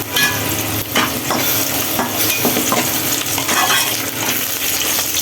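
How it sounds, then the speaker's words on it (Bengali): Onions frying in a pan with a steady sizzle, broken by scraping stirs and a few clinks of a utensil against the metal, close and fairly loud throughout. "পেঁয়াজটা ভাজা হচ্ছে"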